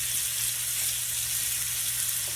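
Cajun-seasoned salmon frying in oil in a pan, giving a steady, even sizzle that hisses continuously at close range with no voices over it.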